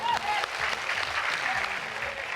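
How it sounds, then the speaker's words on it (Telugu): A studio audience at a televised game show bursts into steady, dense applause that fills the whole stretch at even strength, many hands clapping together close by. "Claps come on."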